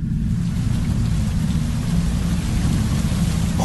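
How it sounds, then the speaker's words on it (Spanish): A thunderstorm lets loose with steady, dense rain and a deep continuous rumble, loud and close throughout with no voices. "Justo en ese momento se soltó la tormenta."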